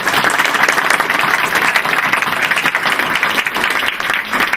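Audience applause for student presenters rolls on steadily from start to finish, a dense, loud wash of many hands clapping with no let-up.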